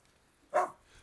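A single short bark from a large poodle, close and fairly loud against a quiet background.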